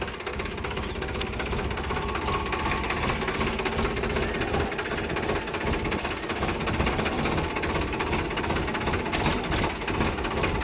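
The 2015 Sonalika RX 60 Sikander 50 hp tractor idles with a steady, fairly quiet mechanical chatter and rumble that runs without a break, with no voices.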